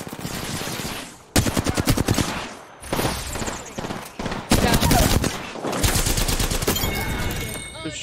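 Rapid gunfire in the video game Apex Legends, loud automatic bursts broken by brief pauses, with game effects mixed in and no clear talk over it.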